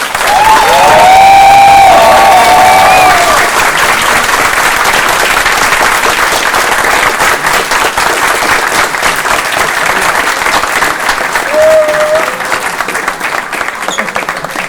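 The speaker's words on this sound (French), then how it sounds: "on peut applaudir très très fort Morgane qui met tout la scène" A theatre audience at an amateur comedy performance bursts into loud, sustained applause with cheers and whistles for a cast member, a dense wall of clapping that stays strong throughout, with a few shouts rising above it early on.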